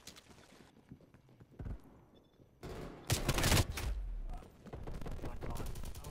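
Shotgun blasts and gunfire during a Call of Duty: Black Ops Cold War match, bursts of loud shots with sharp impacts separated by quieter stretches, growing denser toward the end.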